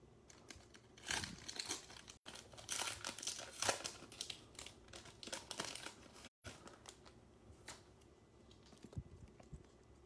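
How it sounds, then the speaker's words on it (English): Trading card packs from a 2021 Bowman baseball box are cut open with scissors, with close crinkling and rustling of foil wrappers in irregular bursts and brief pauses, no talking. "These are a little tough to open, so I'll use the scissors."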